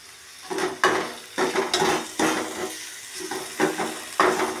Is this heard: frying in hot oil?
yes